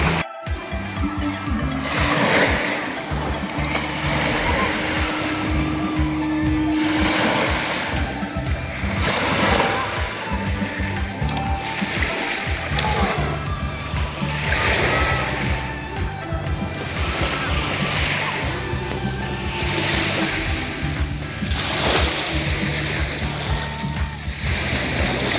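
Sea waves washing onto a beach shore, a steady roar of surf that swells and recedes in repeated rolling surges, with no voices.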